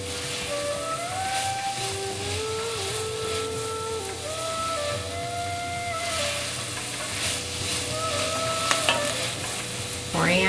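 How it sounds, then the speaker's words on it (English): Onions sauteing in hot olive oil give a steady sizzle and hiss, with wavering whistle-like steam tones rising over the frying noise and a brief clatter near the end. "Heat up some olive oil. I'm going to saute the onions until they're tender."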